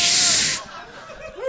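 A video game gel spray goes off as a loud, bright burst of hissing spray, cut off sharply after about half a second. A short faint tone and another brief hiss follow.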